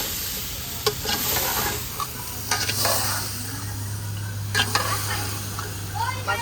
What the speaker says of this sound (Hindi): इनको अच्छे तरीके से मिक्स कर लेंगे ताकि हमारे मिसाले जो है अच्छे तरीके से मिक्स हो जाए